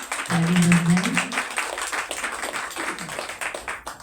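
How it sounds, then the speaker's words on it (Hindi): An audience at an International Women's Day event claps together, a dense burst of applause swelling then thinning out over a few seconds, with a voice briefly audible amid the crowd. "तो एक बार फिर से अपने लिए ताली बजाएं।"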